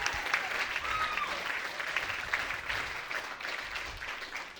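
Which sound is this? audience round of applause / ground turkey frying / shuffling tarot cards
audience round of applause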